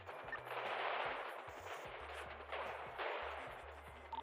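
Rapid bursts of automatic gunfire from a GTA 5 RP NoPixel shootout, fairly faint and distant-sounding, crackling steadily through the whole stretch with no talk over it.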